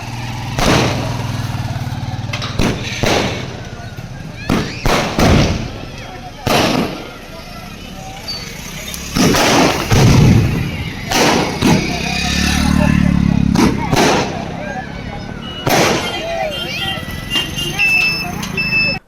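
Firecrackers burst at the opening of a vintage amusement park near Kadavad village in Bidar taluk: a string of sharp, loud bangs and crackles at irregular intervals, with people talking and crowd noise in between.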